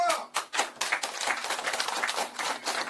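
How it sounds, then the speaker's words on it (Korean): Applause at a Korean political rally speech, a burst of crowd clapping with sharp early claps settling into a steady dense patter, fairly close and moderately loud, with some voice mixed in. "박수!"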